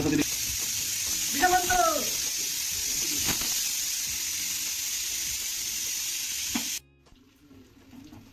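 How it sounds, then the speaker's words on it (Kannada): Mushrooms fry in hot oil for a homemade mushroom biryani, giving a loud, steady sizzling hiss with a few clinks of a utensil and brief voiced sounds, before it cuts to near silence at the end. "ಎಣ್ಣೆ ಕಾದಿದೆ. ಈಗ ಮಶ್ರೂಮ್ ಒಂದೊಂದೇ ಬಿಡಿ, ಅಂಟಿಸಬಾರ್ದು"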